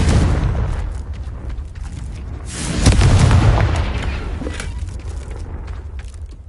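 A spell-cast explosion from the Hogwarts video game: a loud, rumbling boom that swells around the middle over a steady noisy game background, with no talking.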